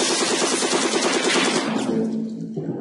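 Rapid automatic gunfire from the video game Silent Storm, a dense rattling burst of shots that runs close and loud for about two seconds before cutting off into a fading tail.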